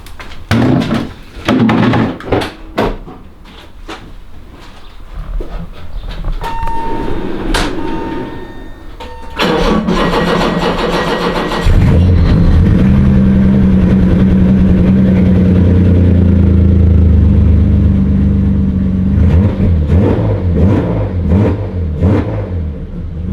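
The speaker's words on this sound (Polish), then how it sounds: "Odpalę jeszcze raz, posłuchamy jak chodzi bez wydechu." A BMW E24 engine running with no exhaust fitted: clunks and short bursts at first, then the engine catches and runs loud and raw, settling into a rough, throbbing idle that carries on close by.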